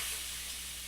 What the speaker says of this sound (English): to manually press release to keep the steam from steaming all your cabinet